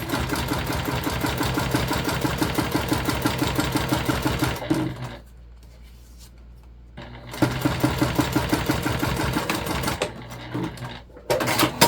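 A sewing machine runs top stitching on fabric beach pouches, a fast, even mechanical chatter that stops for a couple of seconds, resumes, then pauses briefly again, close and loud throughout.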